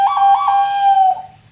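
A handheld whistle plays a short tune imitating a film's title music: a bright, clear tone with wavering pitch, close and loud, fading out at the end.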